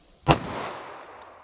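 A single close, loud handgun shot, .40 S&W or .357 Magnum fired over a chronograph outdoors, a sharp crack followed by a decaying rumble and echo.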